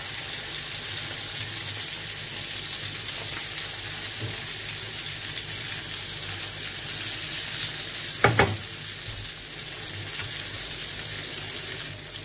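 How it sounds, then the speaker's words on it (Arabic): Salmon fillet frying in butter in a pan, a steady close sizzle throughout with a brief sharper clatter midway as the fish is handled. "الصومون هو كيتقلى"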